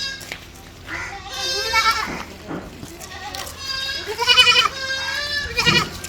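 Several Malabari goats, a milking nanny with her young kids, bleat close by, wavering cries overlapping one another in repeated calls against a quiet background.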